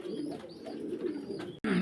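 Fancy pigeons at a Faridpur pigeon farm coo in a continuous, close, rumbling drone, broken by a brief gap before resuming loudly.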